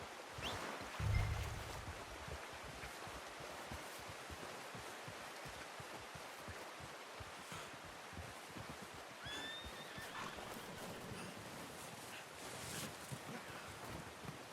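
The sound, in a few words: horse in a video game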